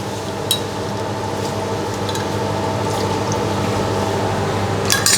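A steady stream of lemon or lime juice pours for a Thai spicy summer salad, a continuous close liquid trickle with a couple of faint clinks.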